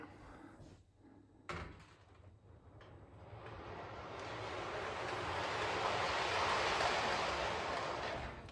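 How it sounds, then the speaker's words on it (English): A model train rumbles closer and louder over the track points on a layout, a steady rolling whir building after a couple of light clicks and knocks. "now we'll bring out that shorter train across a different set of point work"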